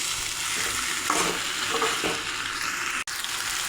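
Chicken pieces stir-fry in a pan for kosha, a constant close sizzle with scraping of a spatula and a sharp click near the end, no talking.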